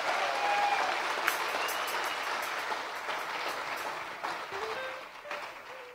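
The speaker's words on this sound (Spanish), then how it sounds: "un aplauso para todos ustedes" Loud, sustained audience applause at a live Spanish-language church concert, a dense wash of clapping that fades slightly toward the end, with a few faint voices mixed in.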